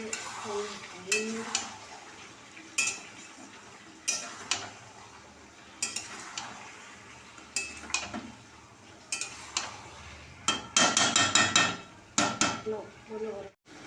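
Chicken and fried potatoes are sautéed in a pan with ground spice paste, a spatula scraping and clattering in repeated rhythmic strokes over a low sizzle, close and fairly quiet.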